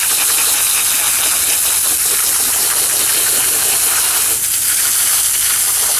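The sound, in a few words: garden hose spraying water to rinse drywall mud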